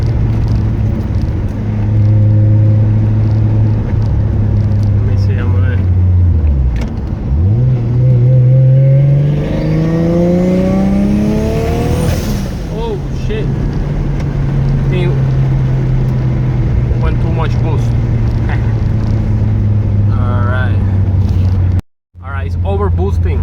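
An RX7 with a 1JZ engine and a Precision 6266 turbo idles loudly, then revs hard with rising pitch before dropping back to a steady idle. It stays close and strong, with a brief cutout near the end.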